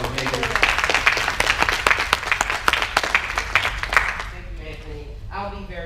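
Audience applause at a collaborative political forum for a speaker, a few seconds of brisk clapping from a modest crowd that fades out as a voice begins speaking.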